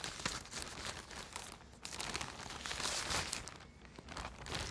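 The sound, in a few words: crinkling of plastic yarn bags during unboxing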